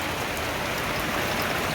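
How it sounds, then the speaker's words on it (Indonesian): Heavy rain falls steadily with a dense, continuous hiss of drops hitting surfaces, moderately loud and unbroken, with no speech or other sounds. "hujan sederas ini yang membuat aku bahagia."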